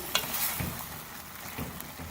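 Potatoes and fenugreek leaves are stirred in a pan over a medium flame, giving a soft sizzle broken by a few scraping stir strokes, close and fairly quiet.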